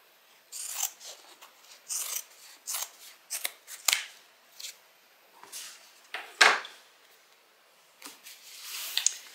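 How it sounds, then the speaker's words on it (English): Fabric scissors snip repeatedly at excess material while finishing a sewn beverage bag, a steady series of crisp, close cutting clicks with short pauses and no talking. "you can go ahead and cut off any excess that you may have"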